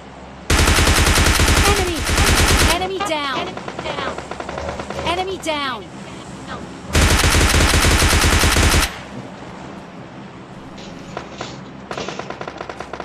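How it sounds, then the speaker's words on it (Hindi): M4 rifle fire in the mobile shooter PUBG Lite rattles in two loud sustained automatic bursts, separated by quieter stretches where a voice speaks over distant in-game noise and a few scattered shots. "लाला ये पर छत पे M4 की गोलियां पड़ी।"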